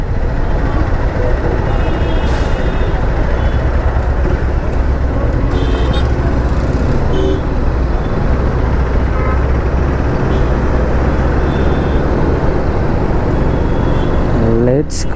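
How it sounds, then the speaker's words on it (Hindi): Heavy city traffic in Bangalore, a loud, dense wash of engines and road noise with scattered horn toots, heard close up from a motorcycle in the thick of it. "ट्रैफिक क्या बोले यार, इतना गंदा ट्रैफिक होता है ना यहाँ पे"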